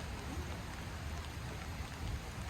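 Steady rain patters down outdoors at a truck campsite in West Virginia, a dense, even hiss close by with no voices.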